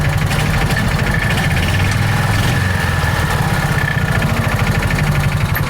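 A John Deere Gator 4x2 utility vehicle engine with hard-start and idle trouble runs at a loud, close, steady idle, its rapid even chugging pulses continuing without pause and with no talk.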